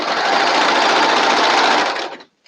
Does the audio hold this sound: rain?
no